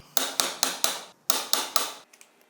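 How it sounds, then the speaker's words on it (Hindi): A manual impact driver is struck with a hammer to loosen engine screws on a Hero Splendor Plus motorcycle, giving seven sharp, ringing metallic blows in a fairly even rhythm, close and loud, then a few faint taps. "ये वाले जो दोनों स्क्रूज़ हैं इनको खोलने के लिए जो इम्पैक्ट ड्राइवर है उसको यूज़ कर रहा हूँ मैं"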